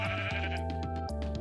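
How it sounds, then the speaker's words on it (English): Sheep bleating in the Minecraft video game, a brown sheep in a blocky survival world, heard as a short, fairly loud call over a steady tonal background with no talking. "No jungle means I needed to find a natural brown sheep."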